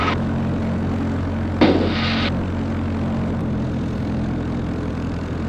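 Continental Titan engine on a Zenith STOL CH 750 Super Duty light aircraft running at steady idle, a loud continuous droning hum heard from the cabin, with a brief burst of rushing noise partway through.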